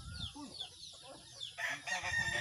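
Chickens cluck and squawk up close as they are pulled from a coop for sale, with sharp agitated calls that grow louder and more crowded toward the end.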